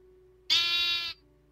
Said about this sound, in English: An energetic sheep.